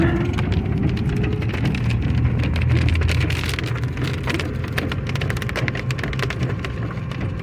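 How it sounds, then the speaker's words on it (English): Hail falls hard during a severe storm, a dense, constant clatter of ice pellets striking surfaces nearby, with no voices. "Yep, there's ice falling out of the sky right now."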